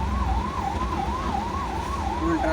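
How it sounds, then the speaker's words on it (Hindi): An ambulance siren wails in a steady rising-and-falling pattern as it passes through heavy night traffic in Mumbai, loud and close over a constant rumble of engines. "मेरे बगल से गुजरते हुए एम्बुलेंस"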